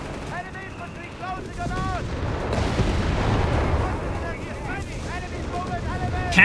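Artillery high-explosive shells burst in Company of Heroes 3, a rumbling barrage of blasts swelling midway under a match commentator's continuous talk.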